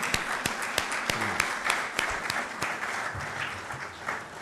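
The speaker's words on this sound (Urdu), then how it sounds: "ان کے لیے مہربانی کر کے بھرپور تالیاں بجائیں۔" An audience applauds national anthem singers at a Pakistani government event, a dense, steady patter of many hands with a few louder individual claps standing out near the front.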